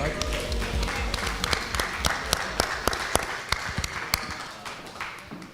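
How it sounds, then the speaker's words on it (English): Scattered audience applause after a live music performance at a music industry event, with sharp individual claps over a broad wash of hand noise and crowd murmur, fairly close and steady throughout. "Give a big round of applause."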